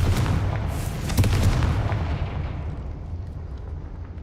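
A Confringo fire spell explosion in the Hogwarts Legacy video game: one loud, booming blast with crackling bursts that rolls off and fades over several seconds.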